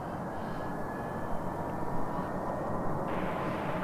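An airplane accelerates down the runway at Reno for takeoff, a steady, broad engine roar with a faint whine, continuous and fairly close.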